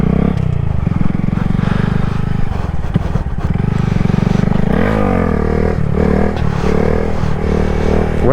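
Modified 2021 Honda Grom stunt motorcycle revving hard in first and second gear during wheelies, loud and close throughout, with rising and falling engine pitch and some scraping clatter.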